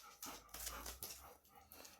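A dog makes soft panting and whimpering sounds close by, low and continuous, with faint breathy bursts across the short stretch and no talking.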